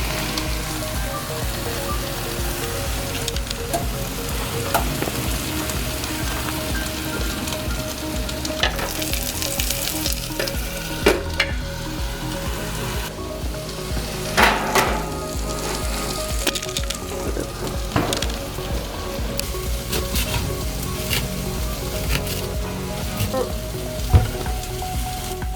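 Cut-up vegetables fry in a pan at 435 degrees, giving a steady close sizzle with crackles and small pops throughout and no voices.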